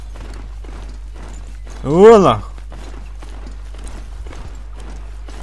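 Hooves of a ridden horse mount in the Horizon Zero Dawn video game clop in a steady, even walking rhythm throughout. Someone speaks briefly over the hoofbeats, which stay moderately loud and close.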